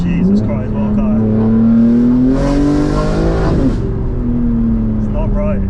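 An 820 BHP rear-wheel-drive BMW G80 M3 accelerating hard on the street, its loud engine note rising and falling close by with a brief rasping surge in the middle.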